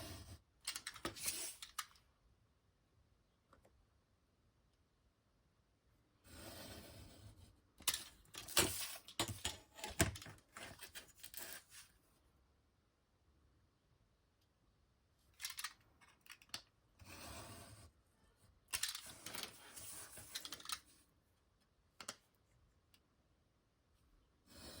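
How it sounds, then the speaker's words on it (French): Craft knife cutting along traced lines on paper for a scrapbook album, quick scratchy bursts of slicing separated by quiet pauses, close and fairly faint. "Je prends mon cutter et je viens couper ce que je viens de tracer en fait."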